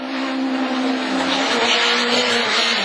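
Super 1600 rallycross cars, a Citroën Saxo and a Renault Clio, racing at Lessay, engines screaming loud and close in a steady high-revving roar with tire noise, no talking.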